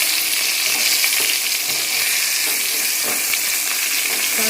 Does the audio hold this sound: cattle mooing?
no